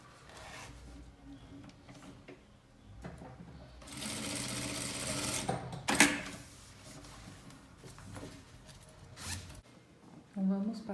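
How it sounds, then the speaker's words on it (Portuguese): A zipper on a fabric cushion cover is pulled open in a few quick rasping runs, close and fairly loud, with soft handling noises around it and no speech. "Abro o zíper para continuar."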